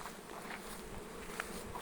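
Honey bees fly in numbers at a hive entrance on a warm day after rain, a faint, steady swarm buzz with a few individual bees droning closer past the ear.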